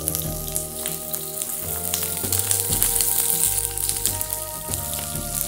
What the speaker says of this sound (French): Dès que l'huile est à température, voilà, on fait sauter les asperges.